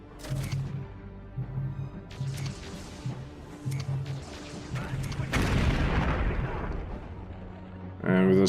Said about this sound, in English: And the final explosion took out